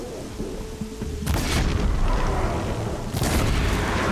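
Two heavy, booming gunshots from Horizon Zero Dawn ring out a couple of seconds apart, each with a deep rumbling tail over a loud game soundscape.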